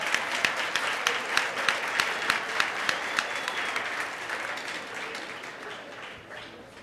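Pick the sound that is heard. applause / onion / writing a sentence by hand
applause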